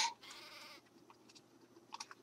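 Short sheep bleats in the video game Craft The World, a brief call at the start and a couple of quieter bleats later, over faint keyboard tapping.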